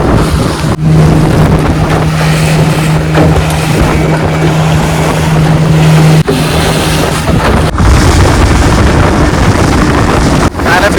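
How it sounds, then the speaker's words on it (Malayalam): Two engines on a deep-sea fishing boat drone steadily and loudly at sea, a constant low hum mixed with heavy wind buffeting the microphone and brief dropouts. "ഫിഷിംഗ് സ്പോട്ടിലോട്ട് പോകാൻ വേണ്ടിയിട്ട് രണ്ട് ഇഞ്ചിന് ഇറക്കിയിട്ടുണ്ട്"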